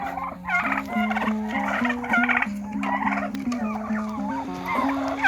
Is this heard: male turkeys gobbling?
yes